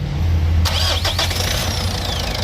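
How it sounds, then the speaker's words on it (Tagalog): A 2010 Mitsubishi Montero Sport engine cranks with a loud rising starter-motor whine, then catches and settles into a running idle. "kapag in-start to, medyo may maririnig kayong wing kasi nga malakas na yung starter motor"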